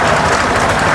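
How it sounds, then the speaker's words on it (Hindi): Brief burst of audience clapping at a Bhagwat Katha gathering in Gorakhpur, dense and even for under a second. "इसलिए अपने भी जोरदार तालियां।"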